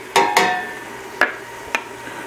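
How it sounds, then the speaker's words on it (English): A spoon stirring chopped onion, anaheim peppers and cumin in a cooking pot, with a few sharp metallic scrapes and clinks against the pot, spaced unevenly, close and fairly loud. "Stir it all in and cook it down for a few minutes until it softens up real nice"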